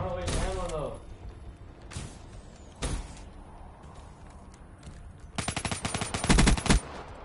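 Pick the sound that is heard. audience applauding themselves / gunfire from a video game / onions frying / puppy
gunfire from a video game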